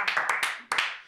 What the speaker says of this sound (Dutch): Sven de Leijer die applaudisseert voor mij.